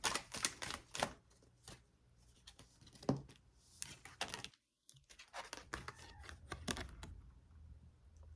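Tarot cards are shuffled by hand in a quiet room, giving soft, irregular riffling and tapping clicks close to the microphone with one brief pause.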